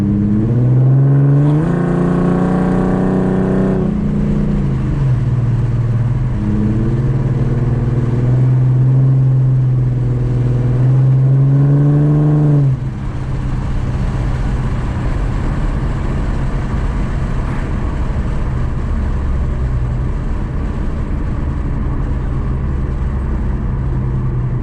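A car fitted with an idle chop mod revs up loudly through the gears, its engine pitch climbing in several rising sweeps with brief drops between shifts, then settling into a steady lower drone; no talking.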